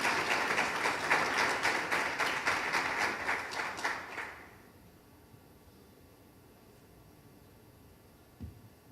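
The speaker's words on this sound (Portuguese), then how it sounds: "nós precisávamos agora receber o professor José Roberto com uma salva de palmas" Applause rises from the audience at the Graciosa Country Club to welcome Professor José Roberto, steady dense clapping for about four seconds that stops abruptly, leaving a quiet room.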